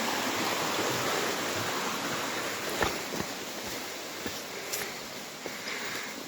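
A small mountain stream on a forest trail with footbridges flows steadily, a dense continuous rush of water heard close, with a few faint knocks and steps over it.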